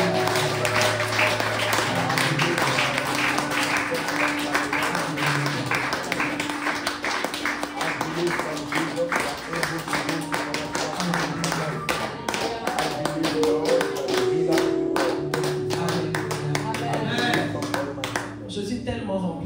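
Worshippers in a church clap together in a rhythmic, sustained beat, loud and continuous, over music with held tones while a voice speaks at times.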